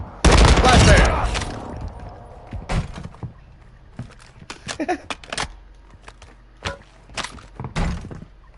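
A flashbang grenade bursts in a video game squad match with a loud, dense blast at the start, followed by scattered sharp gunfire-like pops and thuds; voices call out around the action.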